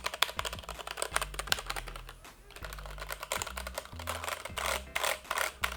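Rapid, steady typing on a mechanical keyboard with black switches, muffled key presses in a continuous clatter with brief pauses, close by and moderately loud.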